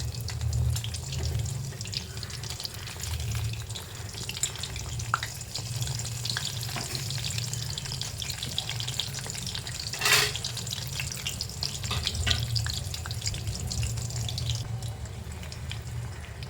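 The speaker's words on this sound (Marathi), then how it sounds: "फ्राय करून घ्यायचं आहे थोडे हलवून घेऊया" Sabudana french fries deep frying in hot oil, with a continuous bubbling sizzle, gentle stirring clinks and a brief louder burst midway, close and without talk.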